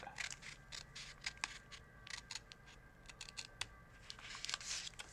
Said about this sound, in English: I'm going to get in here with the scissors, and I'm going to cut that out